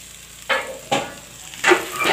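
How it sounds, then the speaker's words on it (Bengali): Baim fish frying in a pan, with three separate bursts of stirring and loud sizzling as the pieces are turned in hot oil, each one flaring up sharply and then settling back to a low hiss. "এই যে বুনা করতেছি"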